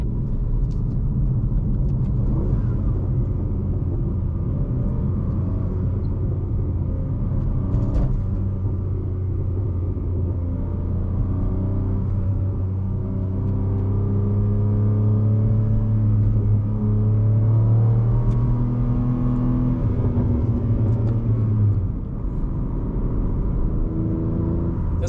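A BMW M3 Competition engine rumbles steadily from the cabin while driving, low and continuous, with gentle rises in pitch as it accelerates and eases off, no talking.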